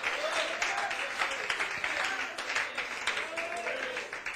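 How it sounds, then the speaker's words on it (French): At an Easter church service in Paris, the congregation applauds Jesus with a dense, continuous wash of clapping that holds steady for several seconds, with voices mixed in among the crowd. "applaudissez Jésus encore une fois"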